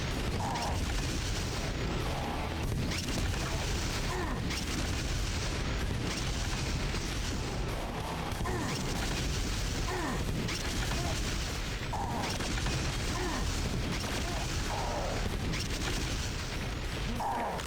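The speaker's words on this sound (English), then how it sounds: "I just love the phalanx so much. The firing sound, the explosion, the damage, it's all so nice." Quake 2 gameplay with the phalanx weapon firing and its shots exploding, a dense, continuous barrage of booming blasts and mechanical bursts repeating throughout at loud, steady level.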